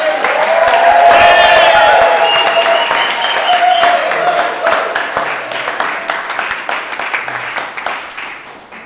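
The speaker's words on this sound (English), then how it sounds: "Big round of applause, please." A comedy-club audience gives a stand-up comedian a long round of dense clapping. The applause is loud at first and gradually thins into scattered claps, with some crowd noise mixed in.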